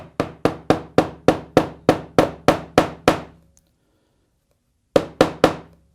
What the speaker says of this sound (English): I'm just going to tap the brad nail into our spot here to give us a nice reference divot